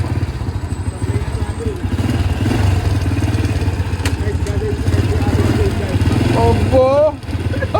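An old Honda Dream C100 motorcycle engine runs steadily with a low, throbbing idle, close by and loud throughout, and a voice breaks in briefly near the end.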